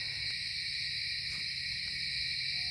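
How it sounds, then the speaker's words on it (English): An owl hoots at night in the woods during camping, a few soft, distant hoots set against a constant, dense chorus of insects. "Now the owl's over there."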